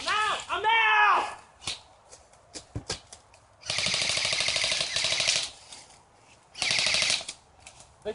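Airsoft guns fire in a swamp bunker, rapid full-auto bursts in two long strings plus a few single cracks, close and loud, with a shouted voice at the start.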